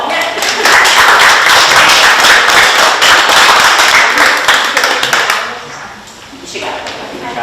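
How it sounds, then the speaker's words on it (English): Applause at a city council meeting, a dense, loud patter of many hands clapping that holds steady for several seconds before thinning out, with a few lingering claps at the end. "Let's give them a round of applause."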